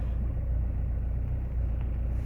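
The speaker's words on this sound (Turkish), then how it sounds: "Aküyü biraz toparlaması için arabayı şimdi çalıştırdım" Car engine idling steadily after being started on a cold morning around freezing to charge the battery, a constant low rumble close by, no speech.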